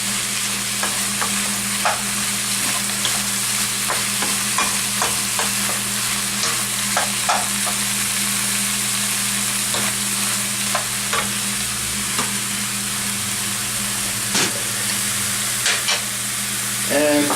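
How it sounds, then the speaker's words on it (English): Shrimp sautés in a pan for gambas, a loud, continuous sizzle with scattered light clicks and scrapes as the pan is tossed and stirred, close up and without speech. "You can see the shrimps now are changing in color. So just give that a little bit of toss."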